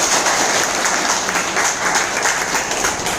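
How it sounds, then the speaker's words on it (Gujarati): A crowd at a business meeting in a hotel claps loudly for Vandanaben, a steady dense wash of applause with no gaps that carries through the whole stretch. "વંદનાબેન માટે જોરદાર તાળી થઈ જશે"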